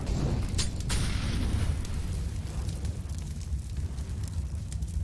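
Molotov fire burning in Counter-Strike on the Inferno map, a dense crackling roar with a couple of sharp pops early on, steady and moderately loud with no voices.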